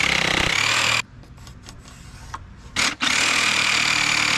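A power saw cuts a board to size for boat seats on a 1989 Marlin boat, running loud and steady, dropping away for about two seconds mid-cut, then roaring back alone.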